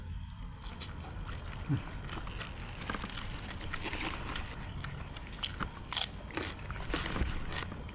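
Crunchy crisp rice is bitten and chewed close up, giving repeated crisp crunches over a constant background rumble.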